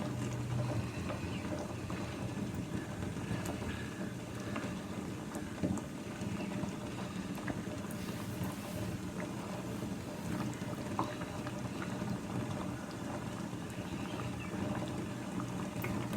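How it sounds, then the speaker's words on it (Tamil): A pot of chayote curd kootu, a yogurt-based Tamil dish, simmers with a low, continuous bubbling and gentle churning in the background, steady and unbroken, with no voices over it. "பார்த்தீங்கன்னா கொதிக்கிறது தெரியுது உங்களுக்கு."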